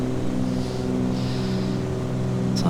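A steady, droning aircraft engine hum fills the cockpit of a light plane, loud and constant, with a brief click near the end and no talking over it.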